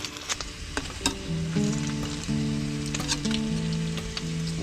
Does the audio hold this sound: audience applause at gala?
no